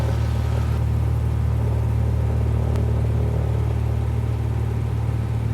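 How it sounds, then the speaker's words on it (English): A small single-engine plane's engine runs at full power during the takeoff roll, a loud, steady droning rumble with constant low tones held throughout, no voices. "Power coming in. We'll check to make sure we're making good engine power."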